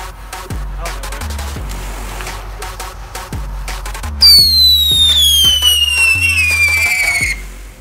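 Fireworks set off on a fidget spinner crackle in a rapid series of sharp bursts, then a loud rising-falling whistle screams for about three seconds over continued pops, all close and intense.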